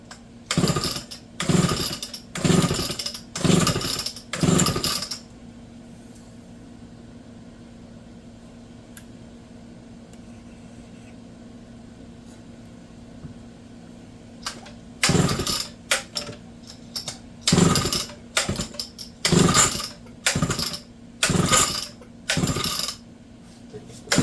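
A Homelite Super XL chainsaw being started: two long runs of loud, rapid, rhythmic mechanical bursts, split by a quieter stretch of low steady hum, with no speech.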